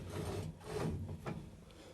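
The carriage of a 24-inch Covington lapidary slab saw is slid by hand, giving a close, dull grinding scrape with a few rubbing surges over two seconds and no voices.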